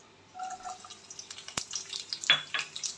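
Onions dropped into hot oil in a pan for a pea and cauliflower sabzi, a sharp clatter followed by soft, growing crackle and sizzle, fairly quiet and close.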